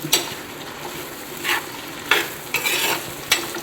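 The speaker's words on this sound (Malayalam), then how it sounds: "ഈ സവോളയും ഇഞ്ചിയും വെളുത്തുള്ളി എല്ലാം കൂടെ നന്നായിട്ടൊന്ന് വഴറ്റിയെടുക്കണം" Onion, ginger and garlic sautéing in a pan for a beef dish, with a steady sizzle broken by several short bursts of stirring and scraping.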